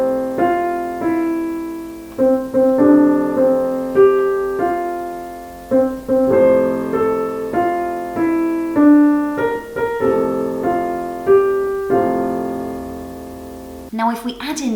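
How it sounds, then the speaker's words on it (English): The Happy Birthday melody rings out note by note on a keyboard-like instrument over one sustained, unchanging chord, played clearly and alone with a brief noisy burst at the very end. "Let's imagine, for example, that Happy Birthday was just played over one single chord."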